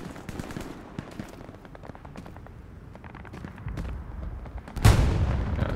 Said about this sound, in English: Some big shooting, I can hear it.